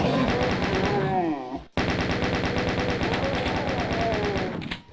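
Rapid automatic gunfire in the shooter Doom II, a steady stream of loud, close shots running nearly the whole time with one brief gap, over game music and effects.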